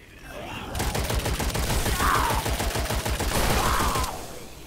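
Turrets unload rapid sustained automatic fire in Witchfire, the Ghost Galleon update, a loud dense stream of shots that swells in, holds for several seconds and then cuts off.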